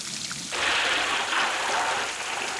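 Monsoon rain at the start of the wet season in the outback pours down, a dense hiss that swells up sharply after half a second and stays steady and close.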